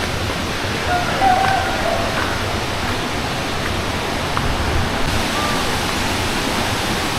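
Broadband rushing water from a river running right beside a hidden forest village on the edge of a ravine, a steady, close, loud wash with no break, heard alone without talk.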